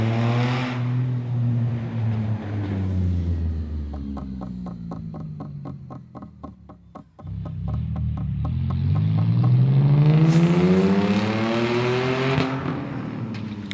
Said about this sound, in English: See that car you hear?